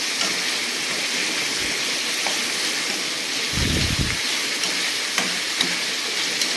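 Chopped tomatoes frying in a pan with a steady, hissing sizzle, joined by a brief scraping stir partway through and a few soft clinks, close and continuous.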